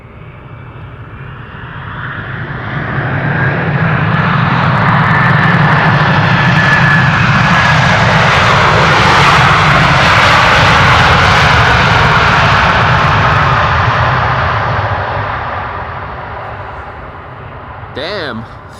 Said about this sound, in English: is Delta Airlines Flight 136 arriving from Detroit, Michigan. It's an A330-300.